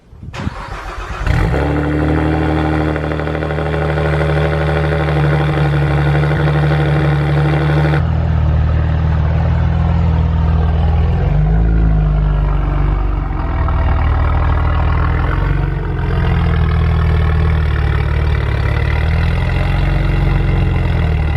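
Saab car engine starting with a sharp crank, then a loud, steady close idle and low rumble as the car is moved around, the engine note shifting slightly as it drives.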